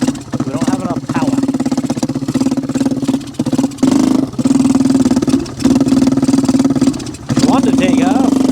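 An old three-wheeler that runs short of power and drags on a flat front tire drones loudly and steadily as it is driven, with a few brief dips in the engine note and voices talking over it.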